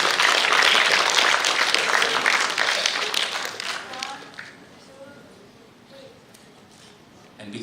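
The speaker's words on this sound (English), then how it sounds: "You may please give a big round of applause for all speakers and moderators." Applause for speakers and moderators at an academic scholar summit rises loud and dense for about four seconds, then thins and fades to scattered claps, with voices chattering in the room afterward.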